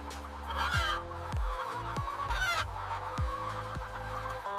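Chickens on a farm clucking steadily, with several birds overlapping in a busy, close flock chorus and occasional louder calls rising above it.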